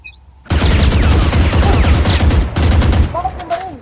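Rapid sustained gunfire from the video game Valorant bursts in loud and dense after a quiet start, continues for about two and a half seconds with a brief break, then tails off into lighter shots and game effects.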